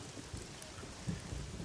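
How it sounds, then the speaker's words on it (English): Heavy rain falls in a rainforest, a steady dense hiss of downpour with low rumbling beneath, fairly faint and with no voices. "Here in the rainforest, it can rain really hard."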